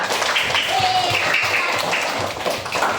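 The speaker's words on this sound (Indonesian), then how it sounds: "tepuk tangan dong buat kita semua" A group claps together in quick, irregular bursts, with a voice or two mixed in underneath.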